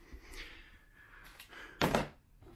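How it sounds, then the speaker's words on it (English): Cardboard lids of Air Jordan 1 shoe boxes lifted open: quiet scraping and rustling, then one hollow, fairly loud thunk of box cardboard, close by with no talk. "We'll open up the lids"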